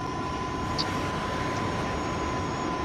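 A jet aircraft engine in the Call of Duty Mobile video game drones as a steady, continuous roar with an even hum, faint and sustained throughout with no talk over it.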